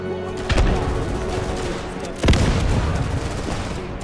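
Gunfire in the Easy Red II Battle of Stalingrad at the Volga River crossing, a loud battlefield of overlapping rifle and machine-gun shots with two sharp, heavy close reports standing out against the constant distant crackle.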